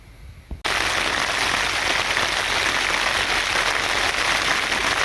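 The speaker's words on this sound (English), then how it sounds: "That is pour down rain." Heavy rain pours steadily onto a tarp at a roadside camp at night, a loud, dense and continuous drumming that starts abruptly after a brief quiet moment and holds without letup.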